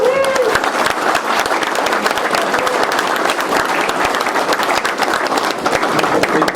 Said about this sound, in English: we would like to have an applause for the Dutch organization, for Tesla, with all your employees